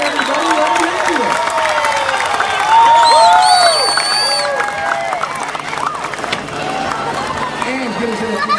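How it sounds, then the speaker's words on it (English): A crowd at an alligator-catching show with an 8-foot, 200-pound alligator claps and cheers loudly, with shouts and whoops rising over sustained applause. "Give him a nice big round of applause."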